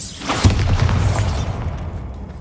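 A Bombarda explosion spell in Hogwarts Legacy goes off as one loud, close boom with a deep rumble, then crackling debris that fades to quiet.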